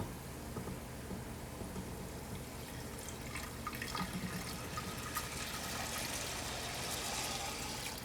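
Three cups of water pour steadily into a cooking pot, a continuous splashing rush running evenly throughout, fairly quiet and close, with no talking.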